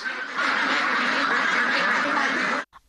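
A dense flock of Pekin ducks on a duck farm quacks continuously, a loud overlapping chorus of many birds close by that stops abruptly near the end.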